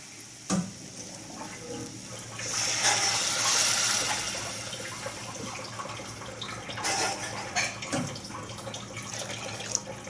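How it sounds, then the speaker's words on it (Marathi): Two glasses of water are poured into a pan of dalimbi amti, a Maharashtrian field-bean curry. A steady, splashing gush swells for a few seconds, then gives way to quieter trickles and clinks, close by and with no voices. "2 ग्लास पाणी घाला."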